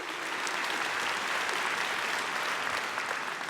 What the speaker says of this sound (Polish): Brawa dla Kasi.